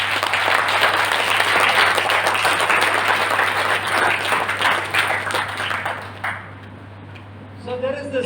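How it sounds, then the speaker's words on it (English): An audience at an entrepreneurship training session breaks into dense, close applause that fades after several seconds, leaving faint room noise and a steady low hum. "Any clap once for that?"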